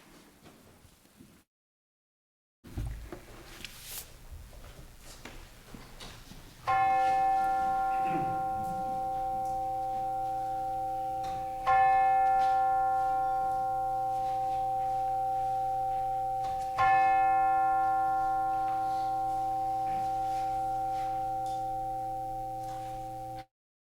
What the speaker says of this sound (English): We will now center our hearts and minds with the ringing of the bell.